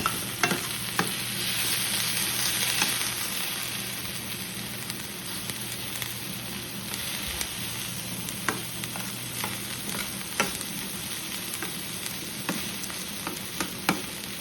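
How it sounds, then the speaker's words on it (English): Garlic powder and basil being stirred into food sizzling in a pan, a continuous frying hiss with regular sharp scrapes and taps of the utensil against the pan, close up and without speech. "Put garlic powder in here, and I'm just gonna stir this"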